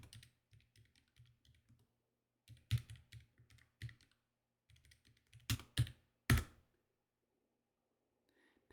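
Typing on a computer keyboard while working in a terminal, with soft irregular key clicks that come in sparse bursts, a few louder strokes landing near the end, all close and quiet with no talk.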